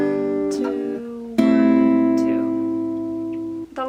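Sustained strummed guitar chords ring out clearly, with a fresh strum near the start and another about halfway through, each left to decay slowly. A close, solo instrument with no talk.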